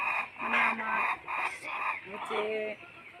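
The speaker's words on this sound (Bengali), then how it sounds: "মুরগিটা আজকে জবাই করবো" A chicken clucks and squawks in several short bursts close by, with faint background noise between calls.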